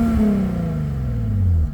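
A car engine revs loudly and close, its raspy, gravelly note sliding downward as the revs fall away.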